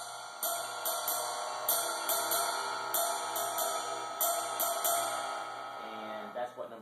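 Jazz ride cymbal played in a swing pattern using only the outer two eighth notes of each triplet, a steady series of bright close pings and washes in an even, lilting rhythm, heard alone.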